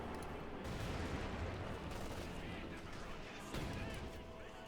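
Gunfire pours onto a grenadier squad in Company of Heroes 2, dense overlapping rifle and machine-gun bursts with crashing impacts, continuous and busy throughout the short stretch.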